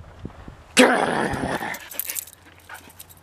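A female dog gives a sharp, close bark-whine on command, followed by softer whimpers and panting, alone in a quiet room.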